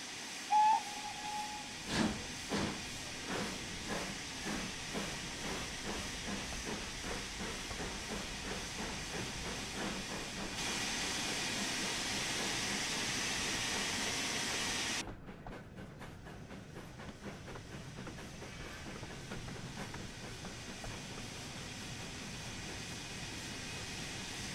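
A steam locomotive on the Peak Forest Railway in Train Sim World 3 hisses loudly, then pulls away with a steady run of close chuffs over constant steam, after a brief whistle-like tone at the start.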